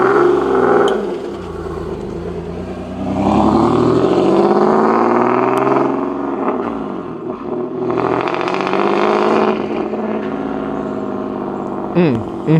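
A turbocharged Nissan 370Z Nismo revs and accelerates in loud rising and falling pulls, the engine note sweeping up several times. Voices talk over it.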